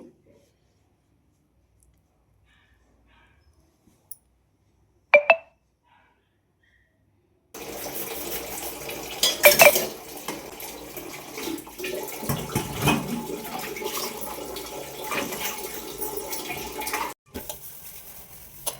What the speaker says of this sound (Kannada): ಈಗ ತೊಳೆಯೋ ಪಾತ್ರೆನೆಲ್ಲ ಎತ್ತಿ ಬಚ್ಚಲಿಗೆ ಹಾಕ್ಬಿಟ್ಟು ತೊಳೆದಿಟ್ಬಿಡೋಣ